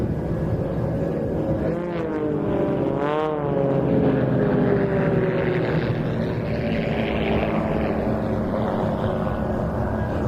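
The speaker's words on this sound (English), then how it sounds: "Two aircraft now to our left and 2 to the right as they continue their turn and approach opposing one another" Display aircraft of the Global Stars team turning overhead at the Saudi GA Airshow 2025, a loud continuous engine roar with a pronounced pitch sweep as planes pass, joined by steady broadband noise.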